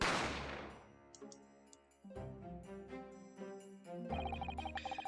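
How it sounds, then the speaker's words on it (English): A single gunshot in the Great Ace Attorney Chronicles game rings out as a sharp, loud crack at the start and decays over sustained orchestral music, with further stings and a swell later on. "I didn't have time to think about where the sound of the gunshot had come from."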